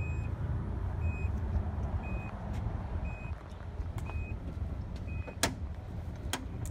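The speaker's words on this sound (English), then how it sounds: "And it's beeping. You guys hear that?" A 2018 Nissan Armada gives a steady series of short, evenly spaced electronic beeps after a button press, moderately loud over a low vehicle hum, with a few clicks near the end.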